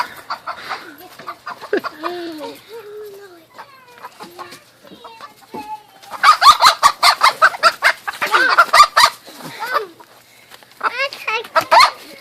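Hens cluck close to the microphone in rapid, loud bursts, with softer warbling calls before them and a few quiet voices nearby.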